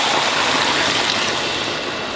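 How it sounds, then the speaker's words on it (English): Beef broth pours steadily into a cooking pot, a loud, continuous liquid rush that runs unbroken for about two seconds and eases slightly toward the end. "And we're going to pour this broth over into here."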